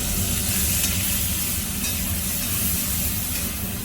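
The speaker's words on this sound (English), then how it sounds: "sear it real nice all the way around so that we get even coverage, so that we caramelize everything really, really nicely" Meat searing in a hot Dutch oven, a loud, close, unbroken hiss and crackle of fat sizzling with no pauses.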